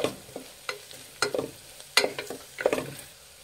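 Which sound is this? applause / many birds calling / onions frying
onions frying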